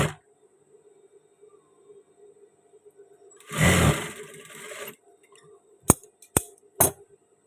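A sewing machine stitches a men's shirt in one short burst of motor whirring lasting about a second. A few sharp clicks follow against quiet room tone.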